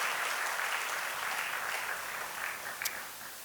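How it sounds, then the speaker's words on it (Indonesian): A church congregation applauds during a sermon, broad steady clapping close and full for a few seconds, then thinning slightly toward the end with no voices over it. "Berikan tepuk tangan kita untuk Tuhan kita."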